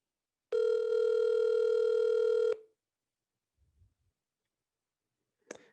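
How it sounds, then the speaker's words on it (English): A single steady electronic ringback tone on speakerphone sounds for two seconds, followed by silence, a faint low thump and a brief click near the end. "this is empty ringing"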